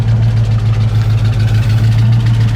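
A 1967 Ford Mustang with dual exhaust idling, a loud, steady low rumble with an even throb, heard close and alone.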